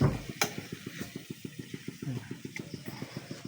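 Spatula scraping and stirring fish and vegetables in oil in a cooking pan, a regular rhythmic series of clicking strokes at about six per second, close and steady, with light sizzling underneath.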